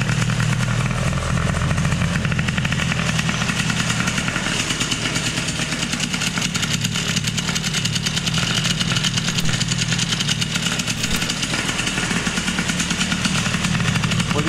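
A moped engine fitted with an AV10 75cc kit runs on its first start, a loud, continuous buzzing two-stroke drone heard close up for the whole stretch.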